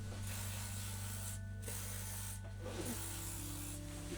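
Contact cleaner sprays onto parts of a BMW R1150GSA motorcycle during a flywheel swap, a loud, close, continuous hiss broken by two short pauses, with a steady hum underneath.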